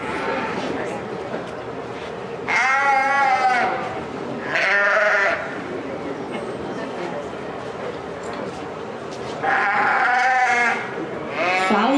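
Show sheep at the Minnesota State Fair FFA livestock ring bleat in several loud, wavering calls spaced apart, standing out over an announcer's steady talk and a murmuring arena background.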